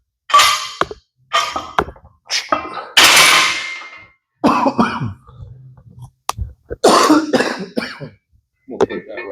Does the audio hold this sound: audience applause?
no